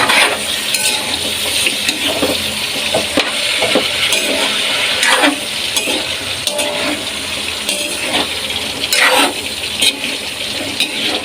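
Green beans and carrots sautéing in a hot pan for a Filipino ginisang gulay, a steady loud sizzle broken by scraping stirs of a ladle against the metal, continuous and close with no voices.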